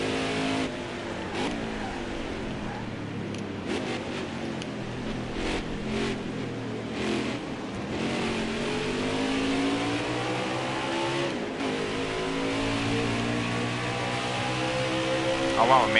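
A race truck engine accelerating on a track, heard from inside as a steady, building drone that rises in pitch and swells toward the end, with light rain-like noise in the background.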